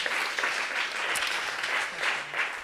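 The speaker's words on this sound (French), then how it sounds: "Merci, on vous applaudit encore une fois." An audience at an innovation awards day applauds a laureate, steady, even clapping from a sizeable crowd that fills the whole short stretch without a break.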